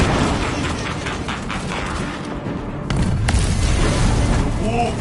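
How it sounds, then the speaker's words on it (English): A grenade detonates in the Space Marine 2 campaign, a heavy booming blast within a dense, continuous roar of battle noise, with a second surge of explosive impact partway through. "Grenade deployed!"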